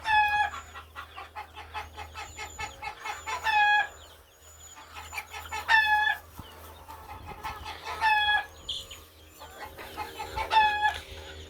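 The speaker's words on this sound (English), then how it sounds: "Somebody lays an egg and they all start squawking." A flock of backyard chickens, including a blue hen, clucking and squawking in repeated loud bursts of rising cackles with quieter clucking between, close by over a low steady hum.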